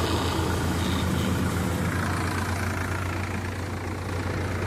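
A tractor engine drives a wheat threshing machine at steady revs, a loud, continuous low drone with constant mechanical whirr and no pauses.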